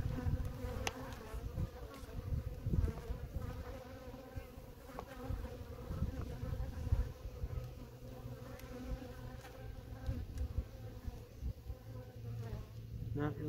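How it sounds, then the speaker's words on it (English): Honey bees from caught swarms, housed in four small nucleus colonies, buzz continuously in a dense, humming mass, a steady drone with individual bees passing close by. "Four colonies of free bees."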